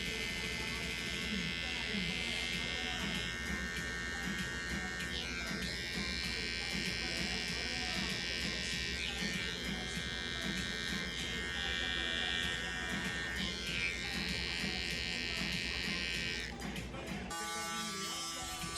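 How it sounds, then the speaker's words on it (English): A loud electric shaver buzzes steadily at close range for many seconds while trimming a beard, its tone shifting as it moves, with faint talk beneath. "I'm just going to clean up the area with my shaver so it could be a smoother shave"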